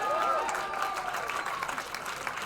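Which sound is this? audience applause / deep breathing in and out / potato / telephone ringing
audience applause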